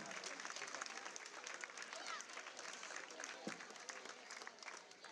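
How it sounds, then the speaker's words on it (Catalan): A crowd at the Festa Major of Móra la Nova applauds a young girl, a dense, even wash of clapping that stays faint and distant. "Molt bé, un fort aplaudiment per ella."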